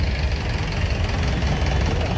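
A 2018 Swaraj 855 tractor engine idles steadily nearby, a low, continuous diesel rumble with a slight knocking pulse throughout.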